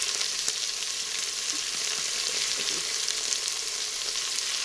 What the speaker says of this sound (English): while I'm waiting for the chicken to cook